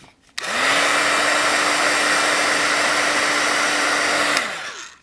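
A craft heat tool dries ink on a handmade bird-themed birthday card, switching on with a click into a loud, steady, close whirring blast that holds for about four seconds before cutting off.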